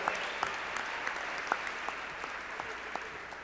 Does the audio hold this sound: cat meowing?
no